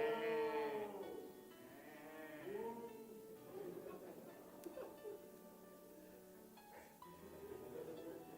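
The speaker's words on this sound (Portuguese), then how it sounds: "Que balido é esse de ovelha que eu ouço nos meus ouvidos? E que mugido de boi que eu ouço?" Sheep bleat and cattle moo in a quiet farm setting, with wavering calls at the start and again a few seconds later, then scattered faint rustles and background noise.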